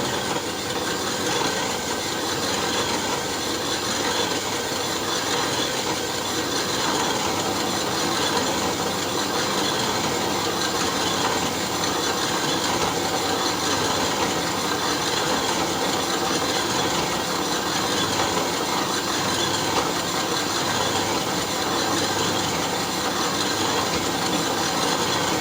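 A Drummond double-bed lathe runs steadily with the half nut engaged, giving a continuous broadband mechanical whir with no pauses and no talk.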